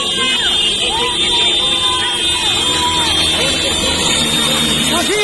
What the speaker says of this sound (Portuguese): Buzina, buzina!